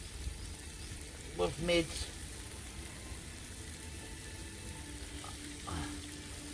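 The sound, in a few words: veggies sizzling as they are sautéed over a campfire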